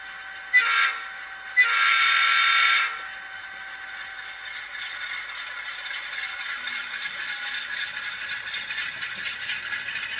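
A ScaleTrains NS GE C39-8 model locomotive pulls 25 cars up a helix, rumbling and rattling steadily, with a couple of brief louder bursts early on before settling into a continuous mechanical whir.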